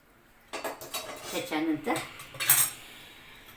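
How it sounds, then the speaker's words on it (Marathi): Wheat flour being dry-roasted in a pan, with a metal spatula clattering and scraping against it in a quick burst of close, irregular knocks after a brief quiet start, then fading back to silence. "आपण हे कोरडंच भाजून घेणार आहोत तिन्ही पिठं"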